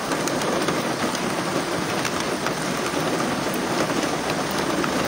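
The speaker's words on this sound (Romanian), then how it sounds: "o ploaie abundentă s-a revărsat asupra orașului" Heavy rain pours down during a mountain storm with large hailstones, a dense steady hiss of downpour with scattered sharper impacts, close and continuous throughout with no voices.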